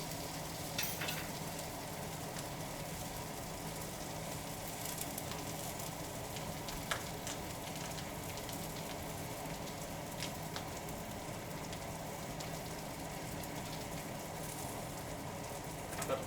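Chopped onions sautéing in a pan for omurice, a faint, steady crackling sizzle with scattered small pops, quiet and continuous.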